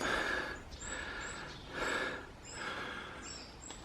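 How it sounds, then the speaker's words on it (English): Heavy, close panting from someone working outdoors pruning a tree, about five deep rhythmic breaths in a steady cycle, with faint bird chirps high in the background. "Oh, excuse my panting."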